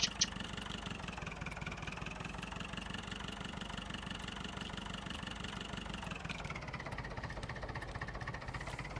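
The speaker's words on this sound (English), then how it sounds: "Okay, sickle bar mower." A tractor pulling a sickle bar mower in Farming Simulator 15 runs at a steady mid-pitched engine drone, constant and close throughout, with a slight dip in tone near the end.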